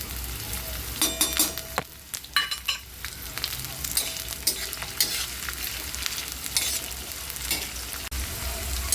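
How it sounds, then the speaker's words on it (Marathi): Onions and green chilies fry in oil on a tawa, a steady close sizzle broken by scraping stirs and clinks of a spatula throughout, with no talking. "आपण कांदा भाजताना आपण यामध्ये मिरच्या पण टाकायच्या"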